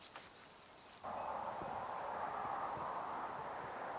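A northern cardinal gives a series of short, sharp chip calls at a steady pace in a backyard at dawn. The calls are faint and repeat about every half second over a soft outdoor background hiss.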